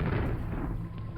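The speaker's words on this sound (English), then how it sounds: "The quick grenade sounds. I like collision sounds." A grenade in a video game goes off with a loud, booming explosion that rolls into a low rumble and fades over about a second, with no voices.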